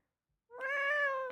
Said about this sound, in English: picked up that meow. Yeah, he's right next to the microphone